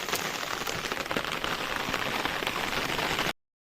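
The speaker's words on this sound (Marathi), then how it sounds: "मंडणगड किल्ल्यावरती पाऊस लागतोय" Steady, loud rain pours down on Mandangad fort in misty weather, a dense unbroken hiss that cuts off abruptly just before the end.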